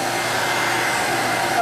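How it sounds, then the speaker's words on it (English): A portable carpet extractor runs loudly and steadily during carpet cleaning, a constant roar of suction and motor noise with no break across the short stretch. "Keep in mind, I'm hooked up to the same portable extractor using the exact same chemicals."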